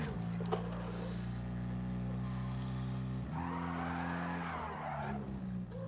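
A car in a racing video game makes a handbrake turn: a steady droning engine gives way midway to a loud, sustained tire skid that fades as the slide ends.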